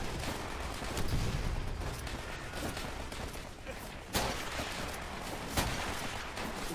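Battle noise from Call of Duty: World at War, with steady rattling gunfire and a couple of sharper close shots over a constant wartime din, and a player's voice in the mix.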